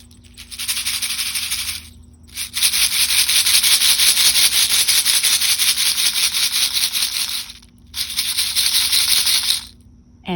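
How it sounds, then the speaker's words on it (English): Dry rattleweed seed pods shaken in long, dense rattling bursts, a steady close-up hiss of tiny seeds rustling with two brief pauses. "that's why it's called a rattleweed, just like a baby's rattle"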